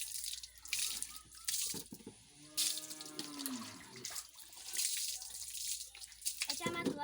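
Water splashes over freshly scrubbed chairs in bursts of pouring and dripping, close and fairly quiet, with a short voice rising briefly in the middle.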